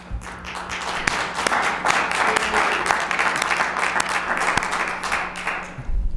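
People in a city council meeting audience clap, a few seconds of uneven, sharp individual claps with a low steady room hum beneath.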